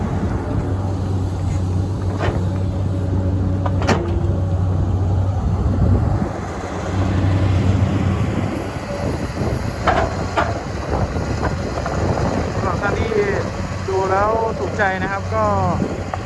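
A Komatsu PC200-8 excavator tossing soil onto the bank of a weir gives off a steady engine hum with scattered clanks and digging noises, and voices come in toward the end.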